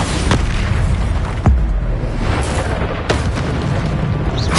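Booming spell explosions from the Bombarda curse in Hogwarts Legacy, a series of loud, punchy blasts spread through the stretch over a dense, rumbling game soundscape.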